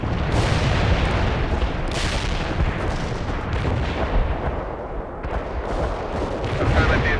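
An artillery barrage pounds a target in the real-time strategy game World in Conflict, heavy overlapping booms and rumbling blasts rolling continuously with scattered gunfire, loud and dense.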